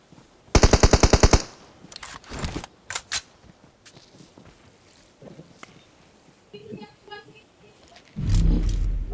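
Gunfire in the mobile battle game Battlegrounds Mobile India, a loud rapid burst of automatic fire followed by scattered single shots and game noises, with voices calling out between them.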